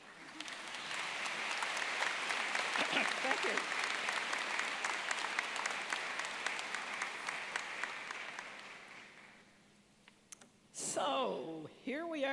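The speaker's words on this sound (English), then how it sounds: "Now you can clap" Audience at a graduation ceremony breaks into sustained applause, steady and crowd-wide for several seconds before fading out, followed by a speaker's voice thanking them.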